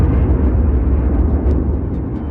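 A giant explosion sound effect for the birth of the Sun: a loud, deep, continuous roaring rumble that holds steady throughout.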